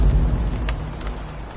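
Rain falls in Minecraft as a steady, soft hiss of drops with a low rumble underneath, continuous and moderately loud with no voices.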